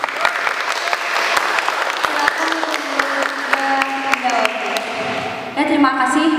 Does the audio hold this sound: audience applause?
yes